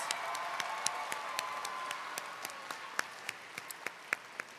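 An audience at a Dallas school district MLK Jr. oratory competition applauds the finalists. The clapping is distant and faint, thinning into scattered individual claps with a steady hum underneath.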